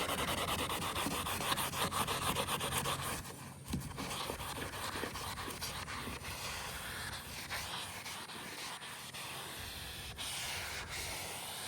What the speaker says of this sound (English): And I'm gonna use that magic eraser on it.